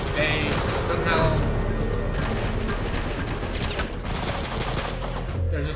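Gunfire in the FMV game Bloodshore: a dense, continuous rattle of shots that stays loud from start to finish, fused with battle noise and low rumble, with no clear gaps between rounds.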